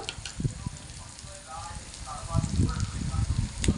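Ground turmeric, cumin, coriander and chili powder fry in oil for homemade pasta while being stirred, giving a soft sizzle with intermittent scraping bursts, louder toward the end.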